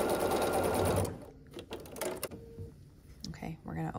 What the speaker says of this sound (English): And then we're going to sew across here.